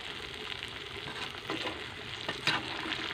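Radish fries in a pan with a busy, even sizzle, joined by a couple of sharper scraping stirs partway through.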